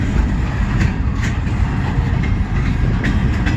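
A CN freight train rumbles past close by on an intermodal and mixed freight line, a loud, steady roar of wheels and cars with faint rhythmic clatter and no talk.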